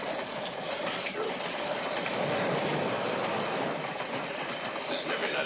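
A passenger train runs steadily on its rails with a continuous rushing roar and faint clickety-clack of wheels over joints, heard from inside the carriage at night.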